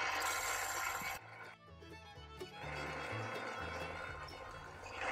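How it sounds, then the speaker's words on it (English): A lathe tool cutting down a wooden chuck, a raspy scraping and rubbing of the tool against the spinning wood. The cutting stops briefly after the first second, then resumes at a steady level. "Now I'm going to cut this chuck down in order to support the steel chimney part"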